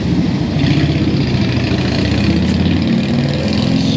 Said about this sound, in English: Sweet Harley.